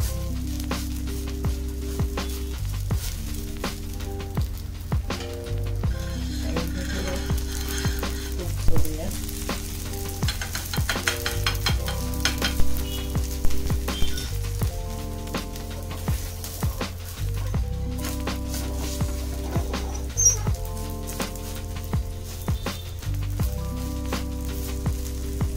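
Sabudana thalipeeth roasts in a pan with a steady close sizzle and crackle, while music plays loudly over it throughout.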